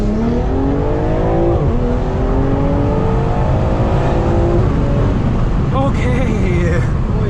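Tuned Stage 2 2020 BMW M340i of about 600 horsepower, heard from inside as the engine pulls hard with rising pitch, shifts, and climbs again, loud and close throughout.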